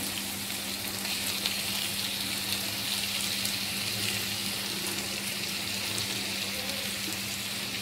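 Boiled potatoes fry in a pan for a sandwich filling with a steady, dense sizzle and faint stirring scrapes. The sound holds constant and close throughout, with no voices.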